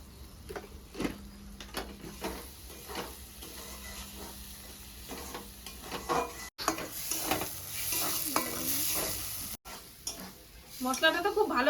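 Spices sautéing and being stirred in a pan for an egg dish, with a continuous sizzle under irregular spatula scrapes and taps, close up, and a brief voice near the end.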